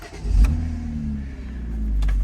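A 2011 BMW Z4 sDrive 2.5L roadster, luxury trim, on a short test drive, its engine humming low and steady from inside the car with a slight rise in revs and a couple of faint clicks.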